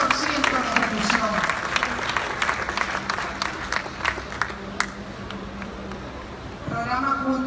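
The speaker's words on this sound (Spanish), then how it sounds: "Yo le pido un aplauso para mi gente." Applause from an audience at a government minister's public policy presentation, scattered claps in a moderate crowd that thin out and fade, with a voice talking over the start and returning at the end.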